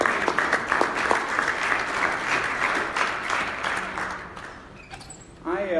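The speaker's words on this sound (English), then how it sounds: "Round of applause for them." An audience at a brown bag forum on a property survey applauds the members of a planning group. The steady clapping tapers off near the end, and a voice then begins to speak.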